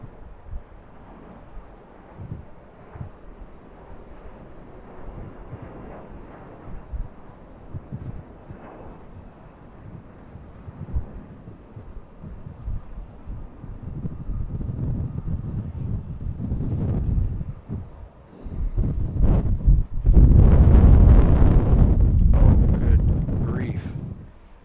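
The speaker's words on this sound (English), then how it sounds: "the wind is just pounding me" Strong wind buffets an outdoor microphone at Raleigh-Durham International Airport, making a low, rumbling roar that builds into heavy, loud gusts toward the end.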